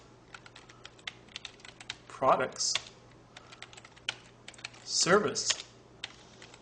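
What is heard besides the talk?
typing on a computer keyboard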